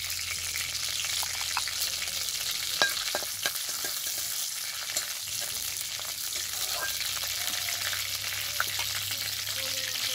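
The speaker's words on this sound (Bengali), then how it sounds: "ফোড়নটা খুব ভালোভাবে ভাজা হয়ে গেছে।" Whole garam masala, cumin seeds and dried chillies sizzling in hot oil in a kadai, a steady close crackle with occasional sharp pops and faint stirring, quiet and continuous with no talk.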